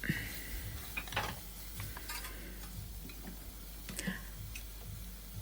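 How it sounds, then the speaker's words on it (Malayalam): A spoon stirs cabbage thoran with grated dried coconut and salt in a pan, soft scraping and tapping strokes over a faint low sizzle, quiet and close, without speech. "ഇനി അത് നന്നായിട്ട് ഇളക്കി യോജിപ്പിക്കണം"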